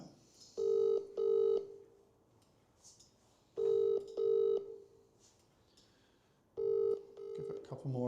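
Ringback tone on an outgoing phone call: three double-burst rings spaced about three seconds apart, clear and steady, with faint background noise and brief speech fragments between rings.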